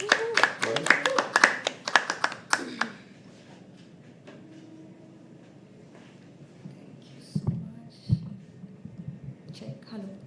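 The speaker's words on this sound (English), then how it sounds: "Keep clapping till she comes on stage." A poetry open-mic audience at The Habitat claps in a dense burst of applause for about two and a half seconds, then it dies away into a quiet room murmur with a few faint taps and shuffles.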